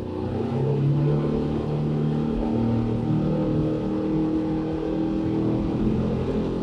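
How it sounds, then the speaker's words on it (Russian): A Yamaha F150 outboard motor on a Voyager 700 Open boat runs at full throttle, giving a steady, loud, close engine roar that holds throughout with no speech. "Попробуем на полный газ."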